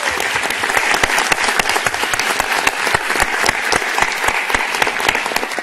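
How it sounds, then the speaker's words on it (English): Lecture audience applauds a collaborator, producing loud, sustained clapping with many sharp distinct claps standing out over a dense wash, steady from start to finish. "So let's give her a round of applause."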